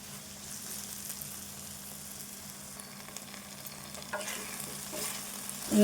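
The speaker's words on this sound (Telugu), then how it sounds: "ఇట్లా ఫ్రై కావాలి మంచిగా ఫ్రై అయింది కదా" Okra fries in a pan with a steady, even sizzle while a spatula stirs it now and then, ending in a louder scrape near the end.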